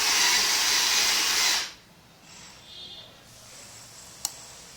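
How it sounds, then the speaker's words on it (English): A small blower fan on a battery-powered gesture-controlled robot whirs loudly and steadily with a broad airy hiss, then cuts off abruptly, leaving quiet room tone, a faint whine and a single sharp click. "So now first we will on the blower fan"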